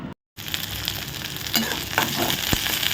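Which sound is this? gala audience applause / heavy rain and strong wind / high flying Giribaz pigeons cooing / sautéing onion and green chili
sautéing onion and green chili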